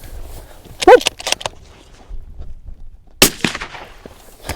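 A single sharp gunshot cracks out during a coyote hunt in early-season South Dakota, a loud, close report that rings briefly, preceded by a quieter bang and scattered outdoor rustling.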